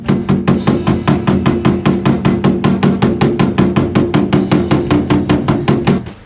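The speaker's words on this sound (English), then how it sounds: "hammer out the plastic distortion area" Rapid, steady metallic hammer blows tap out a dent in a car body panel at an even rhythm, loud and close, around thirty strikes with no pause.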